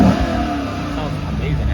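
A Lexus car engine revs in a short, mid-pitched burst with a speaking voice over it.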